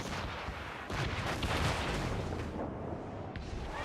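Warship cannon volleys in a naval battle in Assassin's Creed Rogue, a continuous roar of booming broadside fire and rumbling explosions, loud and dense throughout with no clear talk.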